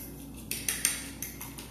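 A spoon clinks against a cup or glass while whisking a cinnamon drink, several sharp metallic taps in an irregular run over a low steady background hum, close and fairly quiet, with no talking.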